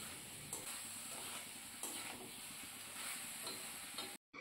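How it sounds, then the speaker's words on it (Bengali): Steady frying sizzle with periodic scraping as young jackfruit and potatoes are stirred in spice paste in a pan, close up, with no voices. "এঁচোড় আর আলুটা দিয়ে আবারও মশলার সাথে কিছুক্ষণ সময় নিয়ে ভালো করে কষিয়ে নিচ্ছি।"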